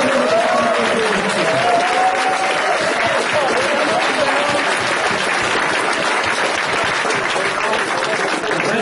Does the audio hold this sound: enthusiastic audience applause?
yes